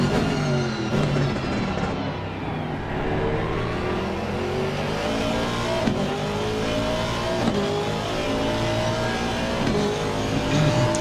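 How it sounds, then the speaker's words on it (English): A Ferrari race car in a sim-racing endurance event at Spa accelerates hard with a rising, whining engine note and gear changes. It stays loud and steady throughout, with other cars' engines droning behind it. "And once again Ferrari accelerates"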